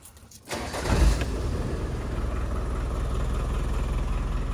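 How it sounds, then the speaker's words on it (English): A 1995 Land Rover Defender 90 with a 300TDI diesel engine cranks briefly and catches, then settles into a steady, fairly quiet diesel idle with an even clatter, heard close by. "It's an old diesel. It sounds good, it's not loud."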